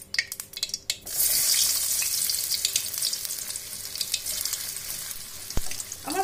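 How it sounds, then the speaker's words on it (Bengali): Paneer pieces coated with cornflour fry in several spoons of hot oil for chilli paneer, a loud steady sizzle that starts abruptly after a quiet second and keeps crackling with small pops throughout. "পনিরগুলো ভেজে নিচ্ছি।"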